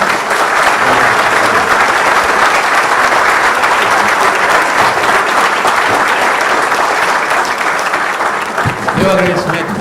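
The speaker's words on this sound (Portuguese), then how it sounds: "por favor, aplausos aos participantes" Audience applause after a business talk at a commercial association in Rio de Janeiro, loud steady clapping filling nearly ten seconds before a voice begins speaking near the end.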